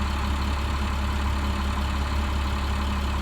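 A bus engine idling just after starting, a loud, steady low rumble with an even throb, close by and unbroken, with no talking.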